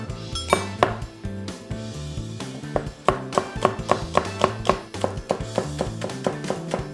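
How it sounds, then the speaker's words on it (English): A knife chops scallions on a board for Korean spicy tofu soup, with quick rhythmic taps in uneven bursts over soft background music and no speech. "And now I'm gonna be chopping up my vegetables."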